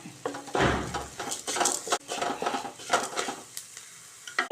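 Spices sizzle and crackle in a hot pan as a utensil scrapes and stirs, with steady scraping strokes and bursts of frying hiss throughout.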